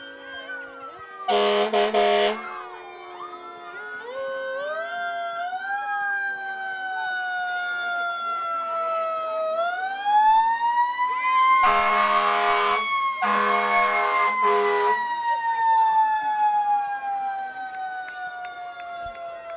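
Fire truck sirens wail and rise and fall nearby at a St. Patrick's Day parade in Elmhurst, with loud blasts of an air horn cutting in twice over the steady howling.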